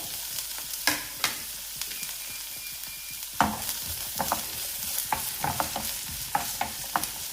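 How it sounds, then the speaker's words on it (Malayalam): Chopped shallots, ginger and garlic frying for a hotel-style fish curry, a continuous close sizzle broken by repeated sharp scrapes and knocks of a spoon stirring in the pan. "അതിലേക്ക് ചെറിയ ഉള്ളി ചെറുതാക്കി അരിഞ്ഞതും ഇഞ്ചി വെളുത്തുള്ളി അരിഞ്ഞതും ചേർക്കാം"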